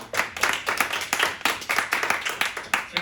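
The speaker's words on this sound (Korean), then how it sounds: "박수 한번" A church youth congregation claps for returning students at a Sunday service, a burst of many hands clapping unevenly and steadily for about three seconds, with no talking.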